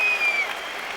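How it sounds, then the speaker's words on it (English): A boxing arena crowd cheers and applauds after the Henry Maske vs Graciano Rocchigiani IBF heavyweight title fight: a loud burst of clapping and roaring that eases slightly, with a brief whistle-like tone early on. "Crowd giving him a well-deserved cheer."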